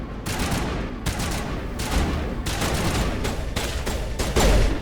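Sustained gunfire in the Mass Effect game on Noveria, with dense rapid bursts and overlapping shots running loud and continuous for several seconds, a few heavier booms punctuating the volley.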